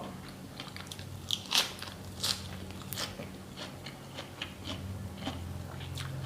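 Someone bites into crispy pork eaten with sticky rice, making sharp, close crunches, with two clear bites early and smaller crackles after, all fairly quiet over a low background hum.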